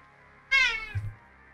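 A single drawn-out house cat meow, fairly close and clear, followed by a short low thump, with no talking over it.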